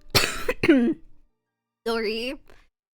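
Two rough coughs close together, followed after a short pause by a throat-clearing hack, nearby and fairly loud with silence between.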